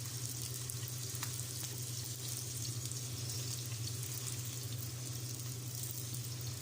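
A radish-stuffed paratha frying in a pan over a medium flame gives off a steady, even sizzle with a low hum beneath it, continuous and close for the whole stretch.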